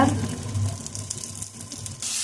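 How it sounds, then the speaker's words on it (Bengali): Fish roe frying in a pan with onion, black cumin, bay leaf, dried and green chillies, giving a steady close sizzle with light stirring scrapes and no talking. "এখন মাছের ডিমগুলো ভাজা হচ্ছে, পেঁয়াজ, কালো জিরে, তেজপাতা, শুকনো লঙ্কা, কাঁচা লঙ্কা।"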